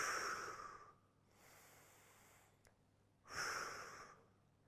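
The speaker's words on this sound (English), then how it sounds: "Exhale as you lift." A person exhales forcefully through the mouth while lifting in a bicep curl, three breathy bursts with a quieter drawn breath between them, close and unaccompanied by speech.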